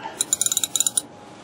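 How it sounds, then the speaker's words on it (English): Clicking ratchet turning a socket on the rear differential of a 2001 Ford F150 during a fluid change: a quick run of about ten sharp, close metallic clicks, then quiet. "you just take your little ratchet, take your socket off it"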